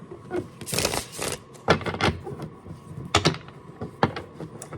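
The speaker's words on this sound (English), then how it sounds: "It's a very stiff deck, so bear with me as I try to shuffle it." A stiff deck of tarot cards is shuffled up close, giving uneven bursts of papery riffling and sharp card snaps and taps with short pauses between, with no voice.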